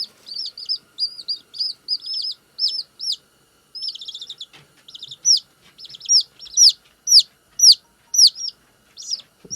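Baby chicks kept warm indoors give repeated high, bright peeps in quick bursts, close and clear against a quiet background, growing busier and louder toward the end.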